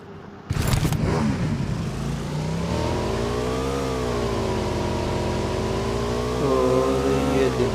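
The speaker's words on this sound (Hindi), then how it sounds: "बाइक तेज़ी से आगे को बढ़ रही है।" A motorbike in the PUBG video game starts up and then accelerates, its engine holding a loud, sustained drone with slowly rising and falling pitch, and it swells again near the end.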